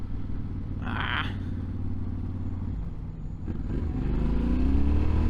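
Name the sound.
motorcycle exhaust while riding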